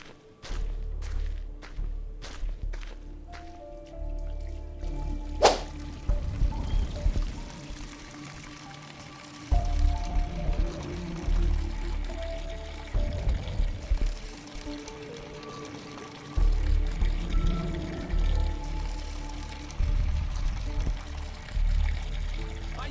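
Water pours from a garden hose in the game Schoolboy Runaway, a broad rushing splash that starts and stops in several bursts, with thuds and footsteps around it.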